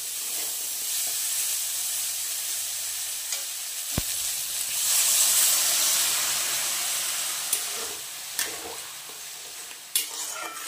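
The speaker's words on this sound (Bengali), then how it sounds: "এইবার জল ঢেলে দেবো এটার মধ্যে" Water hits frying potatoes in a hot pan, setting off a loud, sustained sizzling hiss of steam that slowly fades, with occasional clinks and scrapes of stirring.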